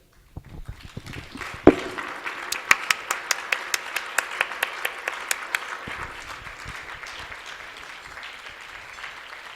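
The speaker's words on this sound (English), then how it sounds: "So if everybody who actually reviewed a paper would stand up and we give you a round of applause" Conference audience breaking into applause for paper reviewers, building from scattered claps to a dense round of many hands, with sharp individual claps standing out, then slowly fading.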